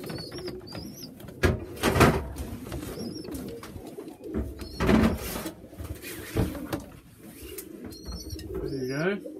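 Pigeons coo in a loft, with soft repeated coos and calls set against a busy background of shuffling, wingbeats and rustling. Someone speaks at times over the birds.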